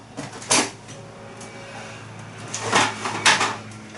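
A De'Longhi Magnifica coffee machine's infuser door is pulled open, giving a few scraping plastic clunks and rattles against a low steady hum, close and fairly loud.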